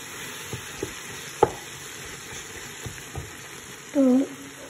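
Spices added to frying onions in a pan for Eid chicken biryani, a faint continuous sizzle with soft stirring taps and clinks, and a brief louder scrape near the end.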